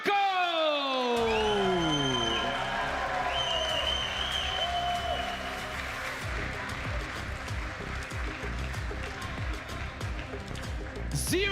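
Loud, sustained applause from a large esports arena crowd at a CS2 match, with some cheering, steady throughout after a brief musical swell at the start.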